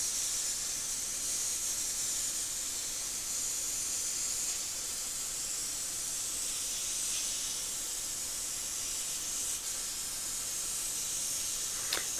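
A CNC plasma cutter slices steel beehive frame spacers over a downdraft table, giving a continuous loud, steady hiss that stays nearly constant throughout, with no speech.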